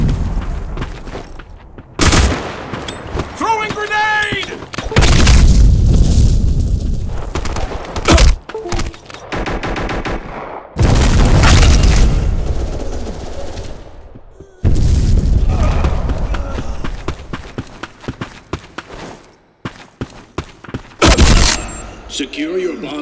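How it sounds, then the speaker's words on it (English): Loud grenade blasts and bursts of gunfire in the online shooter Black Squad, several heavy booms separated by brief gaps, with voiced game callouts in between. "Throwing grenade!"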